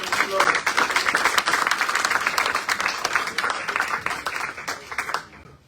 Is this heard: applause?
yes